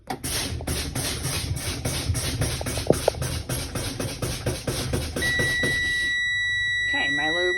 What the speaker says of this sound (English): The low warning light and alarm should come on at or before 55 psi.